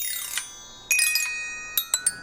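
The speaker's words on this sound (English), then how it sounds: "the bells, also known as the glockenspiel," Clear metallic bell tones of a glockenspiel ring out, a descending run followed by several sharp single strikes, each note sustaining brightly.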